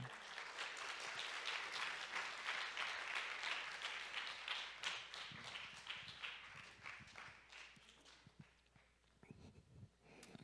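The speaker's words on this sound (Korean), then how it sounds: "우리 전 목사님을 박수로 맞이하겠습니다" A youth retreat audience in a church welcomes a visiting pastor with applause: dense, fairly quiet clapping that gradually breaks up into scattered individual claps and shuffling as it dies away.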